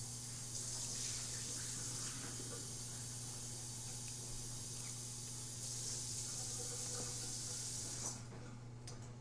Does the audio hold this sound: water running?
yes